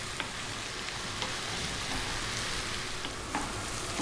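Chili and eggplant frying in a pan over above-medium heat, a steady close sizzle with faint scrapes of stirring running throughout without pause.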